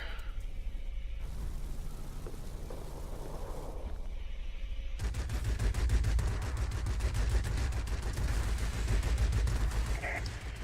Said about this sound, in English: The enemy is launching rockets at us from the military base.